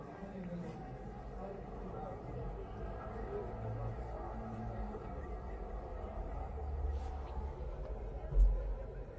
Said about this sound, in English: Open air cafe.